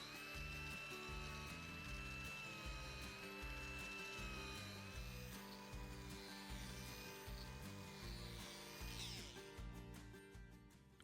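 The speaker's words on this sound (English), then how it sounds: "I'll maneuver the grinder as I pivot the grinder from left" A grinder with a medium grit wheel power carves zebra wood, giving a quiet, sustained whine and rough grinding over about eleven seconds, blended with other rhythmic background sound.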